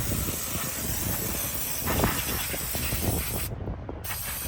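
A continuous pressurized hiss of O'Reilly aerosol brake cleaner spraying steadily at close range on a 2016 Toyota RAV4 brake job, with a brief pause near the end before it resumes.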